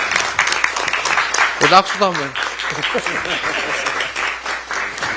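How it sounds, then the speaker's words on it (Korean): Brief applause in a Democratic Party leadership meeting room in Korea, moderate clapping running underneath as someone speaks over it with a few words. "박수 한번 부탁드립니다."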